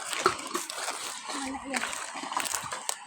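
Water splashing at Balanga Falls, a waterfall where people are bathing, with irregular close splashes and sloshing mixed with voices of people talking nearby.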